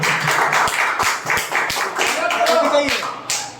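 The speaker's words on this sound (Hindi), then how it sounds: "जोरदार तालियां" Scattered claps and taps at an open mic event ring out under continuous talking, with the voices carrying over the whole stretch.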